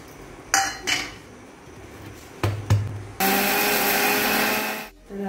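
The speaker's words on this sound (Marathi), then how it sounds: "मिक्सरमध्ये साखरसोबत बारीक फिरून घेणार आहे" An electric mixer grinder whirs loudly and steadily for a couple of seconds while grinding sugar with cardamom and nutmeg, then cuts off, after several clanks and taps of the jar and lid being handled nearby; no voices.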